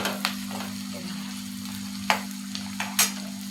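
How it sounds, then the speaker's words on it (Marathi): Two spoonfuls of ghee sizzle quietly in a hot kadhai under a constant low kitchen hum, broken by a few sharp clinks and spatters. "कढई 2 चमचे तूप टाकलं."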